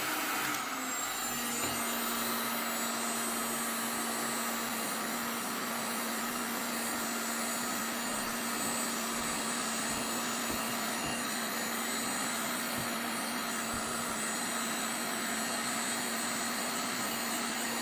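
A Black & Decker KX1650 heat air gun blows hot air in a steady, fairly quiet whooshing roar with a thin whine, unbroken for the whole stretch with no talking, used to strip paint.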